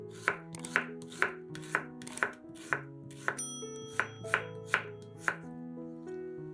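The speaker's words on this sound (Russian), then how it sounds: "2-3 луковицы нарезаем полукольцами." Onions being sliced into half rings with a knife on a cutting board, a dozen crisp evenly spaced chops at a steady rhythm, close and clear, then a short quiet pause.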